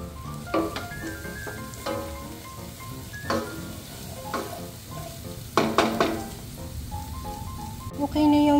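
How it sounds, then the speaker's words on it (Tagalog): Garlic and onion sizzle in hot oil in a pan for a beef udon dish, with stirring scrapes and clinks of a utensil throughout, while music plays along and a voice speaks briefly. "igigisa natin yung bawang at sibuyas"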